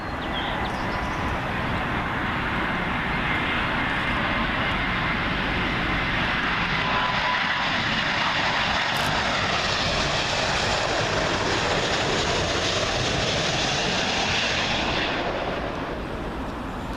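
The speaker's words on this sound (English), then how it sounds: "here comes that big heavy now, American Airlines 777 in from Raleigh, Durham" American Airlines Boeing 777 heavy jet landing on 27L at Heathrow, arriving from Raleigh-Durham, a loud, broad engine roar sustained close by for nearly the whole stretch before easing slightly at the end.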